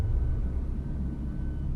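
A 550 to 560 brake horsepower car engine idles or runs low and steady, a dense continuous rumble without any revving peaks, heard close.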